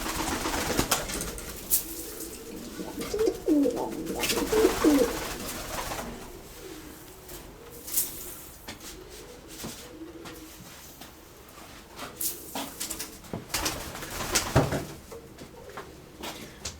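Lemon-coloured pigeons perched nearby give soft, low coos repeated through the clip, with brief knocks and flutters between the calls.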